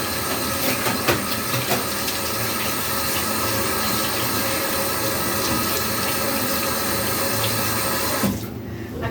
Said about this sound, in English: I'm just washing my hands slowly.